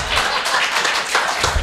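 An audience in a hall at a poetry recital claps in a brief, dense burst of applause, close and fairly loud.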